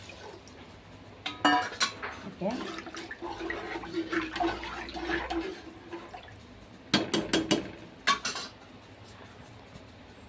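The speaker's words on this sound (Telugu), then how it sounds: "ఈ వాటర్ని ఇందులో వేసుకుంటాను" Four glasses of water poured into a cooking pot for vegetable biryani: bursts of splashing and gurgling with metallic clinks of vessel and glass, a voice briefly speaking between pours.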